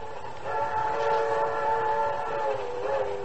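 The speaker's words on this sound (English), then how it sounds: "Our story really begins quite innocently on a streamlined train speeding toward New York City." A streamlined train speeds toward New York City past midnight, a radio-drama sound effect: a sustained, chord-like whistle rings out over a low rolling rumble, close and fairly loud throughout.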